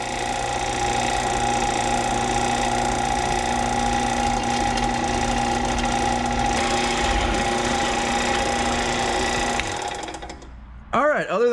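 A fast-spinning power drill bores slowly through a mini truck bed with a loud, steady whining hum that holds for several seconds before winding down; someone talks over it.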